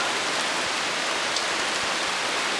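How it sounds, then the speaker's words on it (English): Steady rain falling at a cabin in Allegany during August, a dense, even hiss throughout with no voices. "Allegheny sorely needed the rain."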